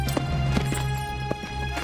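Horses' hooves clip-clop in a steady, unhurried rhythm, close and moderately loud, over a low constant hum in a cartoon scene.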